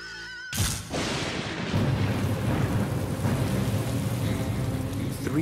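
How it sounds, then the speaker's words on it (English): A heavy rainstorm over Chicago begins with a sharp crack of thunder, followed by a steady roar of rain pouring down on surfaces with a low rumble beneath. "Three days after people, a rainstorm hit Chicago."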